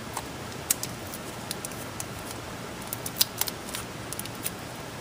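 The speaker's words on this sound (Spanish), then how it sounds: "Recorto un pedazo de cartón que me dé más o menos el ancho del protoboard" Scissors cut a piece of cardboard for a small light-following robot build, giving a series of faint, irregular snips and crisp clicks over a steady background hiss.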